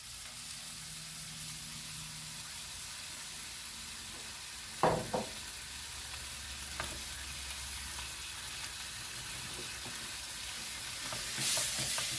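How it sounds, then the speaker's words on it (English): Vegetables and browning beef sizzle steadily in a pan while being stir-fried for crispy chilli beef, with a few sharp scrapes and clatters of stirring over the constant frying hiss. "the beef is browning off pretty good, so I can now"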